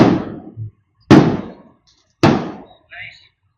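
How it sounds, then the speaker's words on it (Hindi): Firecrackers bursting outside, three loud sharp bangs spaced about a second apart, each with a decaying rumbling tail, plus a fainter pop and a brief whistling crackle between them. "बस अभी पटाखा का आवाज आ रहा होगा"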